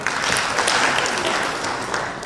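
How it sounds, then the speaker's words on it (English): An audience in a lecture hall applauds a participant, a brief patter of many hands clapping that fades slightly toward the end, with no talk over it. "Please clap for him."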